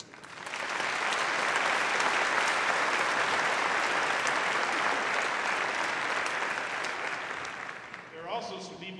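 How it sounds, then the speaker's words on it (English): Sustained applause from a commencement audience welcoming guests at a 2001 University of Alaska Fairbanks graduation ceremony, a dense, steady roar of clapping that fades near the end as a voice begins speaking. "Please join me in welcoming all of these special guests."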